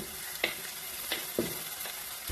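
Spiced goat brain fry with chilli, pepper and masala powders stirred in a pan: a steady close sizzle broken by several distinct scraping strokes of the spoon.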